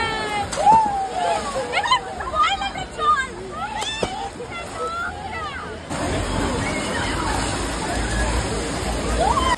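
Water surging and sloshing on a water ride at Nicco Park, a steady rushing wash that turns louder and denser midway, heard under excited voices and shouting from people on the ride.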